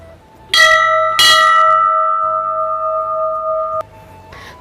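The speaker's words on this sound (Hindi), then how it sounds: "थोड़ा बजाते हैं घंटी" A temple bell is struck twice in quick succession, loud and close, its bright metallic tone ringing on and then cutting off abruptly.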